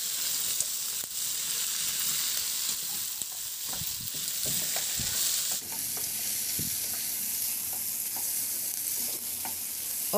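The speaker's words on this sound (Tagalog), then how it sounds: "At isabay ko na rin sa paghalo yung karne hanggang sa maluto lang din yung kamatis." Tomatoes and pork liempo sauté in a pan for ginisang monggo, giving a continuous close sizzle with scraping and stirring clatter from a utensil. The sizzle brightens partway through, and no one talks.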